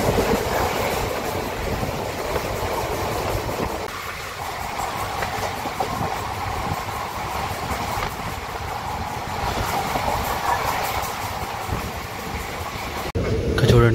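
The Pinakini Super Fast Express between Vijayawada and Chennai Central runs at speed, heard from inside as a loud, constant rushing roar with rattling carriage noise and wheel clatter, ending in a sudden louder jolt.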